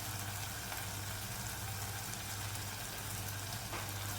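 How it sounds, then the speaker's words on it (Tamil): Spices and turmeric sauté in a pan for a poppy seed gravy, giving a soft, continuous sizzle. A low steady hum sits underneath throughout. "இப்போ இதையும் போட்டு கொஞ்சம் வதக்கிக்கலாம்."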